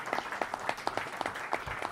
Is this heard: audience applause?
yes